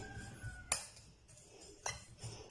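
Vermicelli stirred with milk powder in a pan for a sweet seviyan dessert, heard as a few sharp clinks and scrapes of a spoon against metal over near silence.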